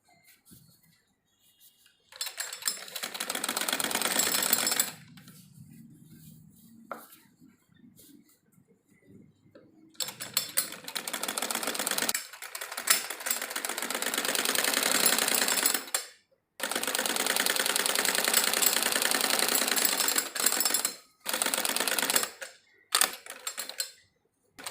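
A sewing machine stitches salwar fabric along the edge in long motor-driven bursts of rapid mechanical clatter, broken by short pauses, close and fairly loud with no talking.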